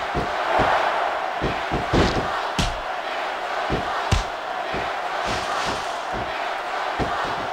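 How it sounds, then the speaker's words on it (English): A capacity arena crowd roars steadily in the Smackdown vs Raw 2006 wrestling video game, with repeated thuds and slams of in-ring impacts over the constant crowd noise. "This capacity crowd is certainly getting its money's worth here tonight."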